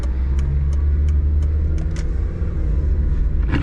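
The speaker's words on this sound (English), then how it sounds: "I'm not gonna drive it too hard just because it's Frank's, but let's see." Mitsubishi Bravo van driving at gentle pace, a steady low engine rumble and road noise from inside the cabin, with faint rattles and no talk.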